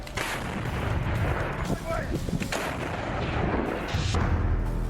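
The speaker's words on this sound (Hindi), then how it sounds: "इस दौरान रूसी सेना ने एक के बाद एक कई गोले टारगेट की तरफ दाग दिए।" Russian artillery gun firing shells at targets in the Ukraine war, heavy booming blasts over rumbling battlefield noise, several shots landing in close succession and loud throughout.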